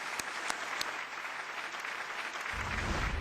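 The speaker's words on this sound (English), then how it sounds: "So a huge round of applause for all this." Sustained audience applause at a PechaKucha design-talk event in Pune, a steady wash of clapping that swells a little louder toward the end.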